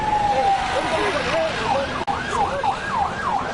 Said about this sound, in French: un autre véhicule roulant avec gyrophare et sirène sans qualité